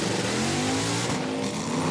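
A 1969 Dodge Swinger and a 1985 Ford Mustang launch side by side at a drag strip, engines roaring loud and close with rising revs and tyre noise in a brief, dense burst.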